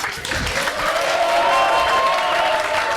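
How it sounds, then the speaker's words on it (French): An audience applauds the winners at the close of a French live show, a continuous wash of clapping with a few faint cheers, held at a steady level throughout. "Les gagnants, on va les applaudir en fair play."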